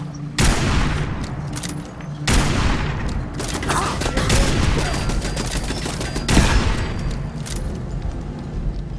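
Heavy .50 caliber gunfire in the Fallout 4 video game: loud, close bursts of rapid shots with booming impacts, several separate volleys over a dense, sustained clatter.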